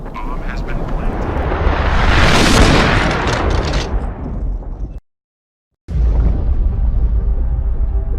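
A video game bomb detonates in a huge, roaring blast that swells and slowly rumbles away, then cuts to silence before loud, noisy sound returns.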